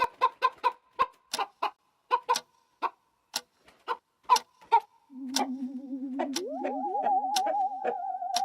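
A chicken clucks in a series of short, sharp, evenly spaced calls, then breaks into a longer, sustained, wavering squawk, close and fairly quiet, with no voices.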